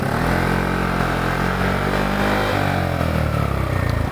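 A Vespa GTS scooter with an Akrapovic exhaust revs loudly and steadily, its exhaust droning with a throaty, buzzing note close by, no talking.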